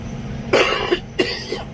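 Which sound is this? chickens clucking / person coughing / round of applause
person coughing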